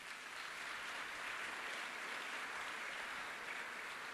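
A church congregation applauds during a Sunday worship service, a steady, dense wash of clapping that holds evenly for a few seconds with no talking over it.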